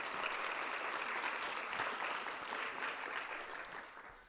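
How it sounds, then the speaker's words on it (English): An audience at a children's literature awards ceremony applauds sponsors, a dense, even wash of clapping that holds steady for several seconds and fades slightly at the end, with no voices. "So please give them a round of applause."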